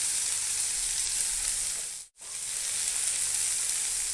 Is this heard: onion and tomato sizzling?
yes